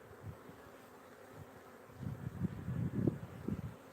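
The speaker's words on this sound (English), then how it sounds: "See the bees running around here?" Bees crawl and buzz around an open hive during a colony split, a faint low hum that swells into denser close buzzing in the latter half, with no talking.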